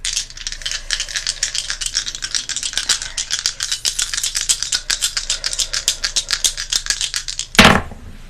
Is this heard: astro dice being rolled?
yes